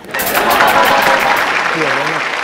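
Studio audience applause on a Hindi comedy show, a dense steady wash of clapping that holds strongly for a couple of seconds, with voices and a brief tonal sound near the end.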